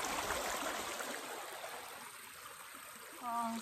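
Steady broadband rush of a river flowing nearby while someone crosses it outdoors, continuous and fairly loud throughout, with a brief splash or gurgle near the end.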